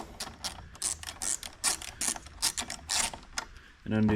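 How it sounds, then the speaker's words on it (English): Ratchet with a 10 mm socket undoing the battery cable nut at the power distribution box of a Ford F150, a close series of quick clicking bursts in uneven rhythm, ending in a louder mechanical whir. "we're going to take a 10 mil and undo"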